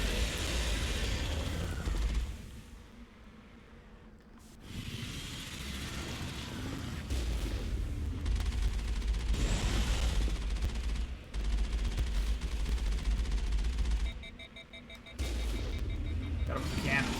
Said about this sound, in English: Got him with the cannon.